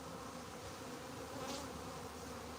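A honey bee swarm drones in a dense, steady buzz, close and continuous, swelling slightly midway with no voices over it.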